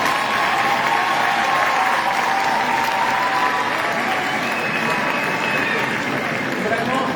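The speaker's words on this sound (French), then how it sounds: "vous pouvez vraiment l'applaudir" An audience claps steadily and densely for a congratulated speaker in a public-speaking contest, a full sustained wash of applause that stays loud throughout, with voices mixed in.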